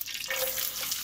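Onion goes into melted butter with a sudden close hiss of frying that carries on steadily through a brief moment.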